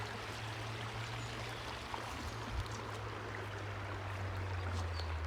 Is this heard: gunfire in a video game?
no